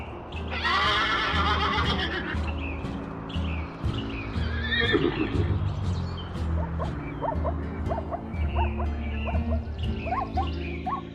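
Zebras call out with loud, close whinnying and barking brays that overlap and repeat, sometimes strained and sometimes yelping, over a thick layer of low rumbling background noise.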